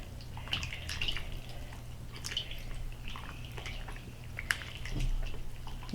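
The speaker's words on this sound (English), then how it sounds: "you stick your hand in there and you make it go through your fingers until you get this milky consistency" Hands squishing and kneading seitan dough of flour and water in a bowl of water, with soft wet squelches and occasional drips repeating steadily at close range, no voices.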